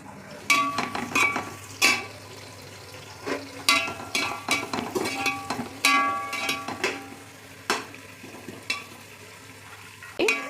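Onions sizzling in hot oil for kuska biryani while being stirred, a steady frying hiss punctuated by repeated scraping and clinking of a spoon against the pan, close up with no voices.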